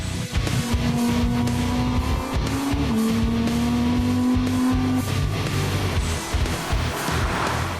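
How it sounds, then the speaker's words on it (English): A naturally aspirated 640-horsepower V10 engine in a 2022 Lamborghini Huracán Tecnica drones loudly and steadily, its pitch rising and shifting as it revs, with tire and road noise mixed in. "V10 naturally aspirated engine with 640 horsepower"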